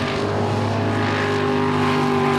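A Tui Craft racing jet boat engine roars steadily and loud at close range, a sustained high-powered drone with strong tonal layers and no pause.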